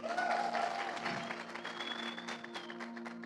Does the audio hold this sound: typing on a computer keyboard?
no